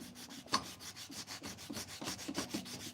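Rhythmic back-and-forth rasping of sandpaper on wood, close and fairly quiet, with a brief sharp knock partway through.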